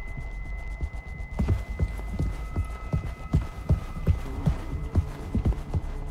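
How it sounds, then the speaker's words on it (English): Footsteps in the horror video game Mouthwashing thud irregularly over several seconds, soft and uneven, above a steady low hum of ambient game noise. "I can hear his footsteps."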